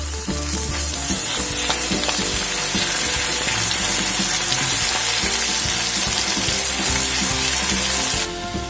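Ginger, garlic and chilli paste sizzles loudly in hot oil with cumin, bay leaf, cinnamon, cardamom, cloves and mace for dhaba-style palak paneer, a close, constant hiss with stirring, cutting off near the end.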